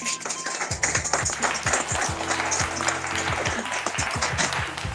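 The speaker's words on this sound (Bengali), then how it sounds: "আর হাততালি হয়ে যাক।" An audience applauds at a Saraswati Puja quiz event, with dense, close clapping throughout, some rhythmic tapping and a low musical hum underneath, and voices mixed into the crowd noise.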